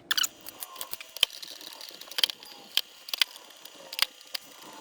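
Screws go back into the case of an APC Back-UPS BVN650M1 unit, a string of quiet, close clicks and ticks of metal and plastic spread irregularly, with no talking.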